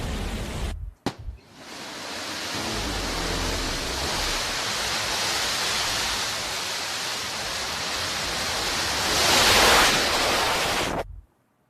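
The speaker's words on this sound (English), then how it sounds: "That rumble, you can see it in the cameras, and when you're down there in Texas, the whole valley feels like it's shaking" Blue Origin New Shepard rocket engines at launch in Texas produce a steady, loud broadband roar that swells near the end before cutting off abruptly, with no speech.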